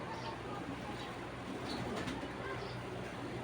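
Soft pigeon cooing in short repeated phrases, faint against a steady wash of background noise.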